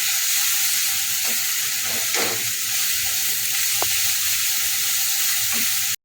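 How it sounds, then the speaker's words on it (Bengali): Ginger-garlic paste frying in hot oil for dhaba-style rajma, a loud, steady sizzle filling the whole stretch, with a few brief spoon scrapes against the pan and no voices. "এখন এর মধ্যে দিয়ে দেবো এক চামচ আদা রসুনের পেস্ট যতক্ষণ না আদা রসুনের কাঁচা গন্ধটা চলে যায় ততক্ষণ এটাকে আমি কষাতে থাকবো"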